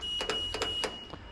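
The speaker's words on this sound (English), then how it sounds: "As you can hear a beep, the stall warner's working." An RV12 light aircraft's stall warning sounds during a ground check: a thin steady beep tone running under a few short sharp electronic chirps, quiet and close, with no talking.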